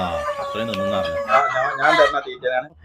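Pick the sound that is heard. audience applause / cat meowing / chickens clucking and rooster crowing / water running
chickens clucking and rooster crowing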